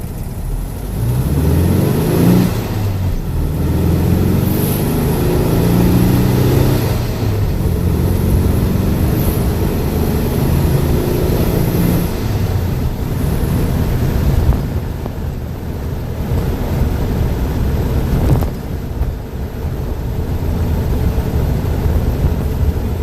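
A 1965 sunroof VW Bug is driven, its engine droning steadily as it revs and shifts, with heavy road rumble and wind buffeting throughout.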